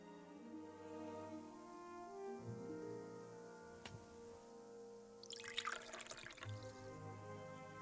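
Water collected in The Book of Unwritten Tales 2, quiet drips and a short burst of splashing trickle over soft background music.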